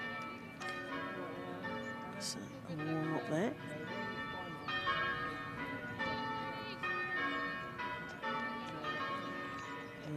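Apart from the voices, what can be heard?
church bells pealing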